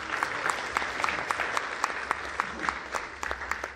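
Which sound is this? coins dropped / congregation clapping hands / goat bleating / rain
congregation clapping hands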